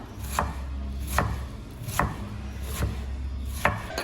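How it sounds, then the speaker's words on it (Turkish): A knife chops large dry onions on a board in five sharp, evenly spaced strikes, close up, with a low steady hum behind. "Nohut için soğanı doğruyor annem"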